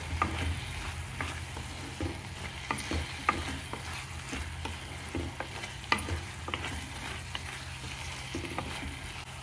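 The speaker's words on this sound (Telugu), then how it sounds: "కొద్దిగా అల్లం పచ్చివాసన పోయే వరకు వేయించుకొని ఇందులో కారం వేసేసుకుందామండి." Ginger fries in a pan for a mushroom curry, a low steady sizzle layered with frequent scraping stirs and light spoon taps, close and continuous without any talking.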